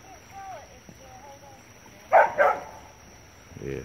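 A dog barks at a woman on a beach: two sharp, loud barks close by midway, set against faint background noise with a brief vocal sound earlier.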